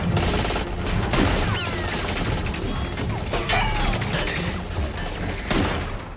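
Loud, continuous gunfire shatters glass with sharp cracks and crashing, tinkling debris that fills the whole stretch without a break.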